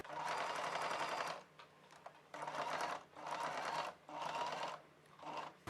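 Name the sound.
sewing machine stitching a square neck blouse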